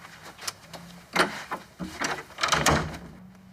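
An indoor door in a house, pulled shut in a few muffled knocks and scrapes, with no voices over it.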